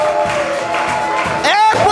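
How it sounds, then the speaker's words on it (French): Church congregation at a prophetic gathering cheering and acclaiming aloud, a swelling crowd roar with whoops that rises sharply near the end, mixed with a preacher's voice speaking over it. "Acclame encore plus fort que ça."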